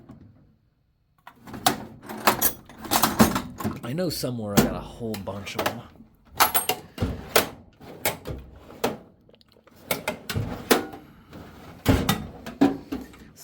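Office or file drawers slide open and bang shut again and again during a hurried search. The thuds and rattles are close and loud, with a person talking between them.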